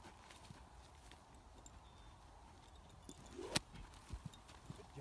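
Horse hooves step slowly on the ground during groundwork training, faint and sparse beneath quiet outdoor ambience, with a single sharp knock near the end.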